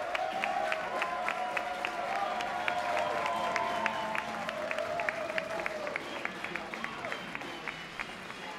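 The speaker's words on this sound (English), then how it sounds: "Let's get a round of applause for our first team" Sustained crowd applause with clapping and cheering fills the clip, steady and loud throughout, with an amplified voice faintly underneath.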